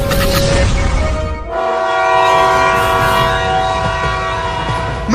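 A cartoon train rolls along loudly with its horn blaring in long sustained tones, the steady rumble of the cars running underneath throughout.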